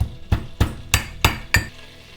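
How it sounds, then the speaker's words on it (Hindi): Green and black cardamom pods crushed by hand for a pressure-cooker restaurant-style gravy, five sharp pounding thuds at an even rhythm, close and fairly loud, with no talking. "मैं छोटी इलायची और बड़ी इलायची को क्रश कर लेती हूँ।"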